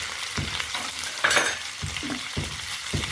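Green chillies and kasuri methi hit smoking-hot oil for a chicken pickle tempering, giving a loud burst of crackling sizzle over a steady frying hiss with stirring scrapes throughout.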